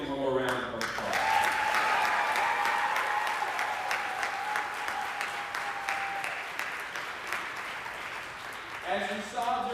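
A crowd at a Teacher of the Year event applauds the teachers with dense, steady clapping, a brief whistle heard early, while voices talk at the very start and end.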